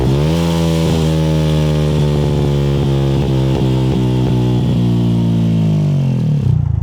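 A 2018 Yamaha YZF 125 sport motorcycle engine under way, a loud steady buzzing drone with quick rev blips as gears change, then settling and dropping off at the end; no talk.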